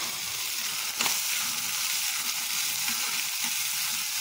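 Curry leaves and whole spices are sautéed on a high flame for a ration-rice biryani, making a constant, close, hissing sizzle with a brief louder crackle near the start.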